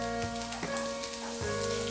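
Dry red chili sizzles in hot oil while tempering for an Indian moong dal and tomato curry, a steady, close hiss of frying that fills the whole moment.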